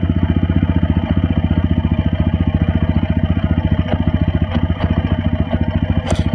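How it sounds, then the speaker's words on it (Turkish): A TVS Apache RTR 200 4V motorcycle engine idles while warming up with a steady, rapid thumping pulse, loud and close, with faint clicks and clatter over the running motor. "Önce motorumuz ısınsın biraz."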